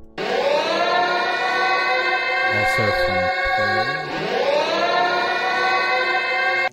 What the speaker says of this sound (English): We have our sweep siren.